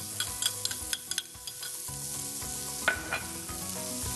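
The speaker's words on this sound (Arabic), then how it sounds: "نقلي فيهم البصله، نقلي فيهم الفليفله الحلوه" Onion and sweet pepper fry in spiced oil, a close crackling sizzle punctuated by quick clattering stirs and utensil knocks against the pan, fairly quiet and without any voices.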